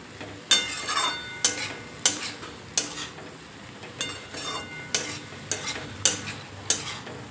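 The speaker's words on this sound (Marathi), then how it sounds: "हाय फ्लेमवर आपल्याला ही भाजी एकदा आता परतून घ्यायची आहे।" Shredded cabbage subji stir-fried on high flame in a pan, with a soft sizzle beneath repeated sharp scraping strokes of a spatula, roughly one stir per second, close and steady.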